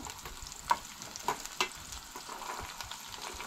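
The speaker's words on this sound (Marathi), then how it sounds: "आले लसूण न्हय बरें तळसळून घेवंक जाय।" Ginger and garlic fry in a pan, giving a soft, steady sizzle with a few sharp clicks of stirring, fairly quiet and with no voices.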